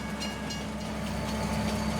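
Diesel locomotive in Farming Simulator 19 rumbles steadily and close, a continuous low engine drone with rail noise, heard on its own without speech.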